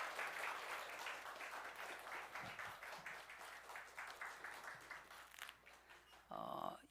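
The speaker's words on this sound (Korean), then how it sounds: "우리 하나님께 영광의 박수 돌리겠습니다." A church congregation applauds right after an infant baptism at a Sunday service, sustained clapping filling the room before breaking off, followed by a short burst of something brighter at the end.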